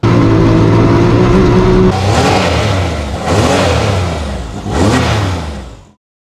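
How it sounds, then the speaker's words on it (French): A buggy's turbocharged Rotax 900 cc inline three-cylinder engine idles loudly, then revs hard in three rising surges before cutting off abruptly. "Turbo, c'est un moteur Rotax, 3 cylindres en ligne, 900 cm3."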